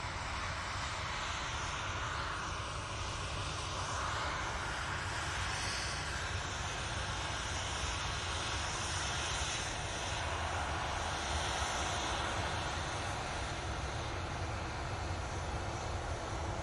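A TUI passenger jet at Manchester Airport, its engines a loud, sustained broadband roar that holds steady and close for the full length, with no voices over it.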